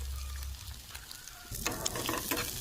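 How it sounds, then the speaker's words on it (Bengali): Egg frying in a pan with onion and garlic, a steady crackling sizzle under scraping stirs, growing louder and busier halfway through, close and without talk. "তো দেখতে পাচ্ছি ডিমটা বেশ ভালোভাবে ফ্রাই হয়ে গিয়েছে।"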